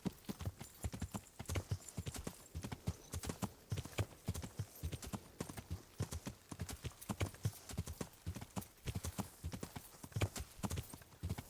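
Horse hooves clip-clop steadily and closely in Kingdom Come: Deliverance, a dense run of hoof strikes lasting throughout with no talk over them.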